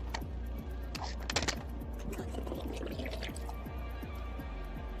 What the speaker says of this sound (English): Oh, dude, that cup is overflowing on the ground.